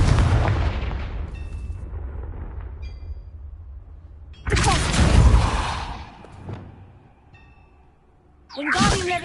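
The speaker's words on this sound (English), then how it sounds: "Confringo!" A Confringo spell blast in a Harry Potter video game, two heavy booming explosions separated by a lull, each with a rumbling tail, loud and close, with no talking.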